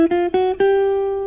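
Jazz guitar notes picked at a standard pick angle with a medium pick, three quick plucked attacks of the same pitch, the last one ringing out and sustaining cleanly and close.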